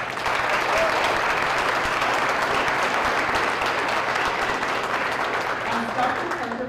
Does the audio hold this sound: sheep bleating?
no